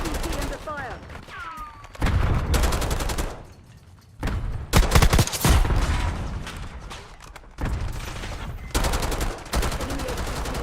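Gunfire in a video game, rapid automatic bursts alternating with short lulls, some sharp close shots and thumps, with brief voice chatter in between.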